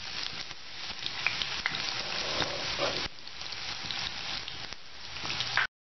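Onions frying in a tablespoon of hot oil in a pan, giving a steady close crackling sizzle with a few stirring scrapes, cutting off abruptly at the end.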